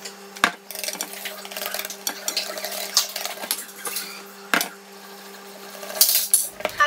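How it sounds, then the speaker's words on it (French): Spoon scraping and clinking against a mixing bowl as flour, baking powder and cinnamon are folded into an egg, oil and sugar mixture for carrot cake, with irregular close taps and knocks under a steady low hum, no voices. "on est parti pour transférer le mélange farine, levure, cannelle dans le mélange œuf, huile et sucre"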